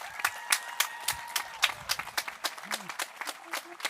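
An audience at a high school graduation applauds student speakers, a sparse, uneven patter of individual claps with a few louder nearby hands and brief background voices.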